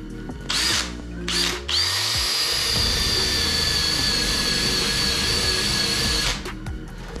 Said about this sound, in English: I got my drill on 2.